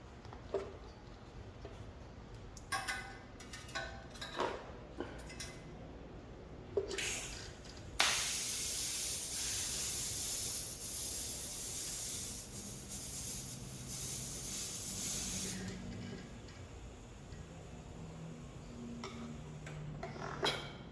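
Tack welding on the exhaust of a 2018 Jeep Grand Cherokee Trackhawk during a Borla exhaust install: a few short crackling bursts, then a long steady loud hiss of arc welding lasting several seconds before fading to quieter workshop clatter.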